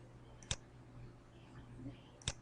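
A computer mouse clicks on an OK button, two sharp isolated clicks about two seconds apart over faint room hum.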